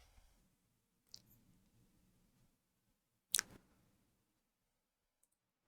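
A computer mouse clicks sharply once, loud and close, after a fainter earlier click, with a near-silent background in between.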